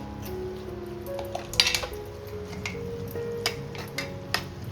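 Red prawns stirred into cooked fresh cashews in a pan for a Malvani cashew-prawn masala: light spoon scrapes and small metallic clinks and ticks, quiet and close, with a soft sizzle underneath.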